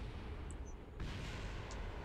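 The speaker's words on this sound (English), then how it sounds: "Most of these explosions are the xenon tanks because they're very full." Full xenon tanks blowing apart in Kerbal Space Program, a dense rumbling blast that swells into a louder, harsher burst midway and keeps roaring to the end.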